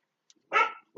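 A single dog bark, close and fairly loud, follows a tiny faint yip, with the start of another bark cut off at the end.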